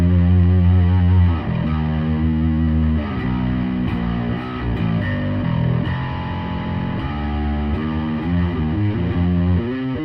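Heavily distorted bass guitar through an Amptweaker Bass JR high-gain distortion pedal playing a riff of sustained, saturated notes, loud and thick, no voices.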